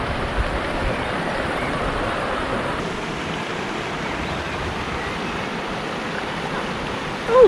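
A glacial river near Interlaken, Switzerland, rushes over rocks in a steady, loud, unbroken roar of flowing water, close by and with no voices.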